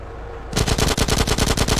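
Rapid automatic gunfire in the video game GTA San Andreas Definitive Edition, a loud sustained burst of close shots starting after a brief quiet moment.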